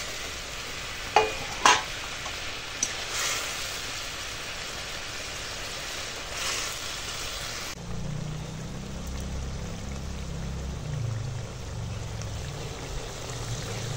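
Fried bhola fish is dropped into a simmering mustard-oil curry, with a couple of brief clinks early on, then a soft steady bubbling and sizzle, fairly quiet and without talk.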